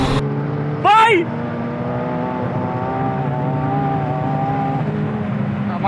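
A McLaren 720S and a Porsche 911 GT2 RS pull away in a rolling-start race, the engine drone holding steady with a rising tone, while excited voices talk throughout.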